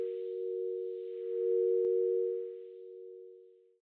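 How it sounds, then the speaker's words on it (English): A shrill, warped telephone dial tone holds steady for about four seconds, loud and piercing with a single faint click partway through, before cutting off abruptly. "all that came out was the shrill siren of that warped dial tone"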